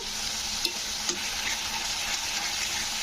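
Tomatoes and spices fry in oil in a pan, producing a steady, close hissing sizzle with a couple of small pops, continuous and without talk.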